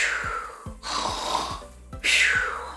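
A person imitates a loud, growly snore, giving three rasping inhale-and-exhale cycles in a steady rhythm, close and forceful, alone without talk.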